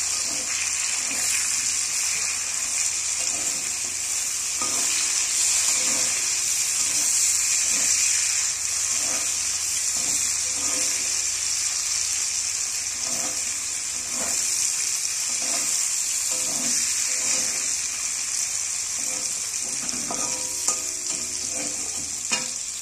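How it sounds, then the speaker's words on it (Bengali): Onion, garlic paste and tomato sauté in a hot pan with a continuous sizzle, and a spoon scrapes and stirs through the mixture in repeated strokes, close and steady. "এবার ভালো করে আমি পেঁয়াজ রসুনটা কষিয়ে নেব"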